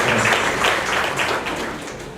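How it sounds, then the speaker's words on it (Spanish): An audience applauds together at a live program, giving a dense, steady wash of many hands clapping that holds loud throughout and eases slightly toward the end. "Una vez más, les brindamos nuestros mejores aplausos a los señores y señoras que han participado en este programa"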